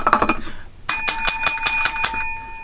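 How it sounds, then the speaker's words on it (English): Bicycle-style bell used as a sound effect, rung seven or so times in a quick even series of bright, ringing dings after a brief earlier flurry, loud and clear with no voices. "Seven bells for Lucy Lawless."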